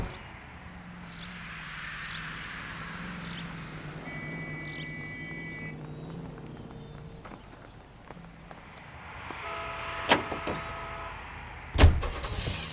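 Car driving in the video game L.A. Noire, a steady, fairly quiet engine hum with faint whines and a few sharp clunks near the end.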